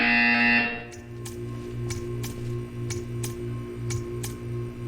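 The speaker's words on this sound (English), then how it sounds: "You will hear a buzzer." A loud buzzer sounds in the video game Portal 2, a harsh tone for under a second, followed by a steady low hum with regular ticking clicks.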